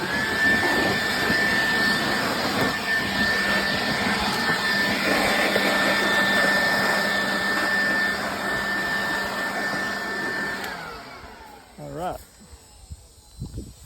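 A TYM T264 compact tractor with a Kukje engine running steadily nearby, a broad droning roar with a faint steady whine, holding for about ten seconds before the engine shuts down and the sound fades away.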